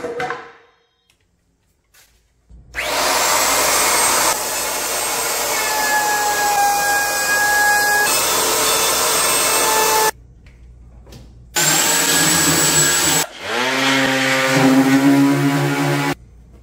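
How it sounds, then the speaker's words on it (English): A power tool cuts off a brace during a table build in a Lumina XL trailer, making three loud, close bursts of steady whining buzz separated by short pauses, with no talking. "Now what I'm going to do is cut this off."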